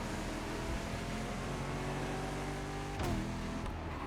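A Corvette's engine drones steadily in The Crew Motorfest while the car is driven, holding an even low roar throughout with a brief sharper swell near the end.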